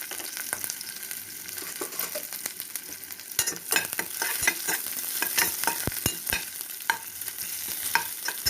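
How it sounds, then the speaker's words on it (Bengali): Dried chillies, crushed ginger, garlic and black cumin fry in hot mustard oil, a steady sizzle broken by repeated scraping stirs of a utensil against the pan. "আমার তেলটা গরম হয়ে গেছে, আমি সর্ষের তেল দিয়ে শুকনো লঙ্কা দিয়ে দিয়েছি"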